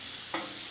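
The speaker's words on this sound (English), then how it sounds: "Hear that sizzle? That's what you want to hear." Yukon Gold potatoes fry on a hot Blackstone griddle, a close, steady hiss of sizzling with a brief scrape as they are flipped, and no talking.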